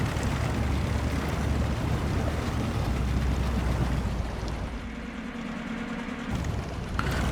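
A tractor engine revving hard while stuck in mud in the video game Snowrunner: a loud, continuous low droning roar with churning noise, easing slightly near the end, and no talking.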